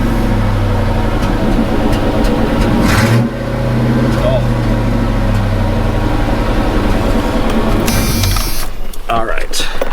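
A Chevy Squarebody truck's engine revs steadily with a dense low rumble, heard from inside the cab, with one sharp throttle blip and a brief rising roar near the end, close and loud.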